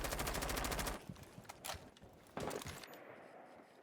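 Bursts of rapid gunfire ring out in a tactical shooter match during a bomb-defuse round, a dense volley first, then a few sharper isolated shots trailing off into quiet.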